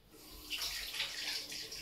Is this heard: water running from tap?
yes